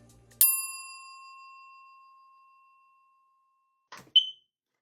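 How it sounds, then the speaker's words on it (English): A dying smoke or fire alarm signals low battery. A bright bell-like ding rings out and fades over about three seconds, then a quiet pause, a faint click and one short, sharp, high-pitched chirp close by. "how we came to associate the beep of a dying fire alarm with being broke"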